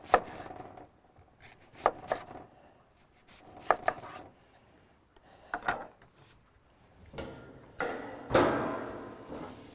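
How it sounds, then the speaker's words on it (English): An onion cut into thick pieces on a board, several separate knife chops spaced a second or two apart, close and crisp, with a longer scraping sweep at the end. "we're just going to take our onion for our quinoa salad, and again, just cutting it into thick pieces."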